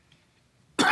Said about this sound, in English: Maybe that's why I'm coughing.